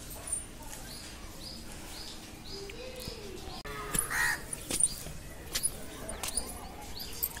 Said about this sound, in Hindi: कौवा कौवा पुकार रहा है।